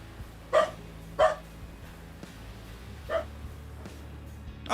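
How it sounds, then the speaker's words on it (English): Dogs barking at a distance, four or five short sharp barks spaced irregularly over low steady background noise, with no voices. "Bark, bark, bark, bark, bark."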